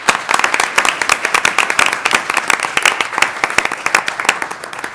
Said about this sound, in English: If you could please give those folks a round of applause.